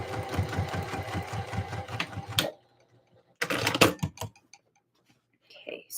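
A sewing machine top stitching a Christmas dress runs in a fast, even mechanical whir for a couple of seconds, stops, then starts again in a shorter burst, close and clear.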